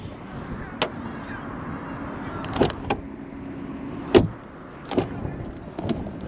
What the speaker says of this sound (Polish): Też posłuchajcie dźwięk otwierania oraz zamykania.